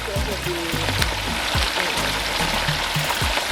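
A whole turkey fries in hot oil for a Nigerian-style Thanksgiving, a continuous bubbling sizzle with voices murmuring faintly in the background.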